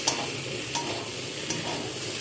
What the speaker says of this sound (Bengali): আর একটু পটল সাথে সব কিছুকে নাড়াচাড়া করে মিশিয়ে নেব।